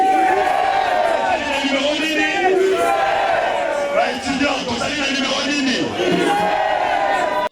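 A festive election rally crowd in Congo cheers for a candidate for national and provincial deputy, a loud, continuous roar of shouts, whoops and high calls that hardly breaks, with voices mixed throughout.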